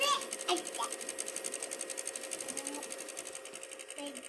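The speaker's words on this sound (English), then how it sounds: "you just hear that constant rattle, grinding noise" A PlayStation 2 disc drive with a reading fault gives a steady, fast mechanical rattle and grind that repeats in a tight, even rhythm. The sound is close and continuous throughout, with no talking.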